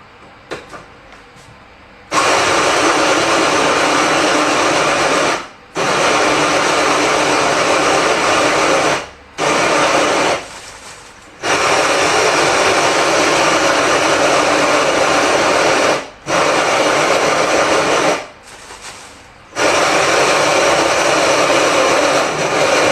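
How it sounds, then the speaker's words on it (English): An electric drill milling a kilo of grain runs with a loud, steady high whine in long bursts, stopping briefly several times between runs before starting up again. "I'll just show you how fast you can mill a kilo of grain with a drill"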